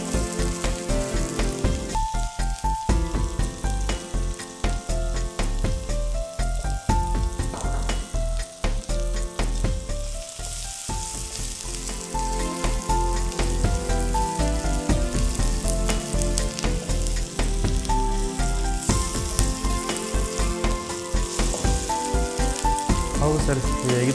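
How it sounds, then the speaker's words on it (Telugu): Ginger garlic paste and onions fry in a pan with a loud, dense, continuous sizzle, broken by occasional stirring clatter and lasting throughout. "ginger garlic paste and onions అనేవి రెండు కూడా ఫ్రై అవుతున్నాయి"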